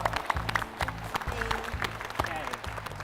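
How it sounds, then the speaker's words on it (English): A round of applause for a quiz team called up to center stage on a team quiz show, heard as fairly quiet, scattered clapping over a steady, rhythmic background music bed. "Give a round of applause."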